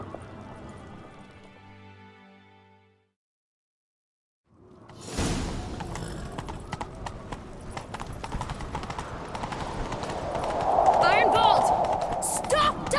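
Rapid, steady hoofbeats of a galloping horse in The Witcher 3 pound along after a brief silence, with music heard beforehand.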